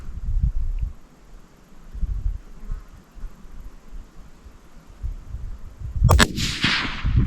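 A single sharp, loud rifle shot fired at a target 101 yards away on a gentle slope rings out near the end, after several seconds of quiet outdoor ambience.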